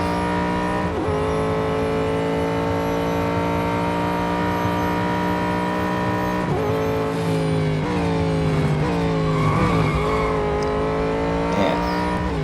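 Cadillac DPi-V.R race car in Real Racing 3 droning at high revs, its steady engine tone dipping and rising as the car fishtails and skids, with faint tire scrubbing near the end; no talking.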